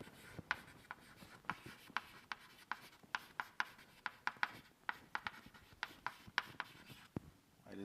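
Chalk writing on a blackboard during a university real analysis lecture, a steady series of sharp tapping strokes and short scrapes, fairly faint and close, with no talking.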